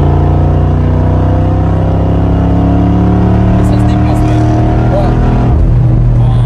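Mercedes G55 Brabus V8 engine running loud and steady with a deep rumbling drone throughout, rising slightly near the end, while people talk over it.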